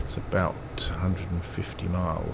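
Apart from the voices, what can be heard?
None of the usual background noises is heard.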